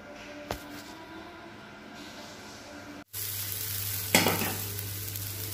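Batter for green gram (moong) dosa hits a hot griddle partway through, setting off a sudden loud, steady sizzle after a quieter stretch, with a sharper crackling burst a moment later.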